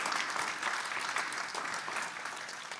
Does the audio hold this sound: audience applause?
yes